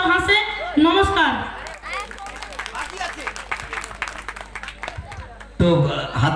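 Audience applause at a school cultural program of dance, song and recitation performed by teachers and students, a dense patter of many hands clapping through the middle, with voices and music before and after.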